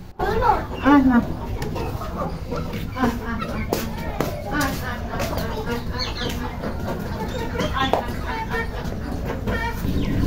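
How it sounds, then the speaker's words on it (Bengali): Free-range chickens cluck close by in a village yard in the morning as they follow a person, with soft rustling of footsteps and movement underneath and no speech. "দেখেন মুরগিগুলো সকালবেলা খাওয়ার জন্য কিভাবে আমার পিছু পিছু হেঁটে চলে আসছে"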